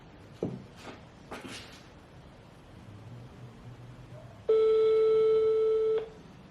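After a few soft handling knocks, one loud steady telephone ringing tone sounds for about a second and a half before a phone call connects.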